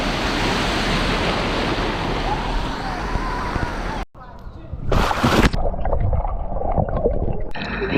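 Ocean waves roll in at a cold, fairly calm beach in South Africa, a continuous, loud surf roar. It cuts away to gusty wind buffeting the microphone, with a few sharper bursts of water and wind noise.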